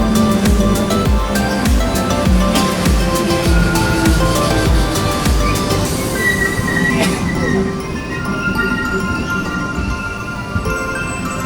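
A metro train pulls into a Paris station, rumbling close and loud with rhythmic wheel clatter, then high metallic squeals ring out as it brakes and slows.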